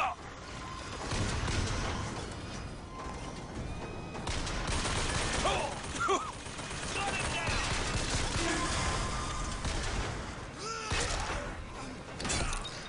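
Dense, sustained gunfire from Bioshock Infinite combat, bursts of shots and mechanical clatter running steadily throughout with faint game voices underneath.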